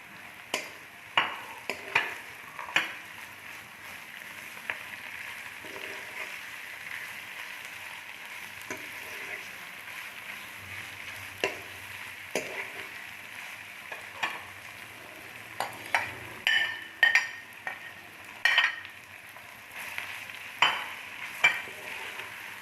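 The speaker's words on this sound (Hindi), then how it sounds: "बस अब हम इसमें अपना कीमा जो हमने कुक किया है उसको ऐड करेंगे" Cooked minced keema being stirred and fried in a pan, with a steady sizzle and intermittent sharp scraping clinks of the spoon, close and fairly quiet, no talk.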